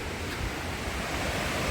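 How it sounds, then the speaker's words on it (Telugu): Water pours steadily over the Taraabu waterfall, a continuous broadband rush of falling water that stays even and fairly close throughout, with no voices. "వాటర్ ఫాల్స్కి వచ్చాం."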